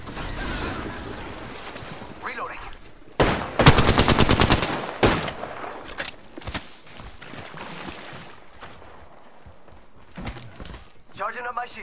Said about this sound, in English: Oh, they're shooting at me? I'm taking shots.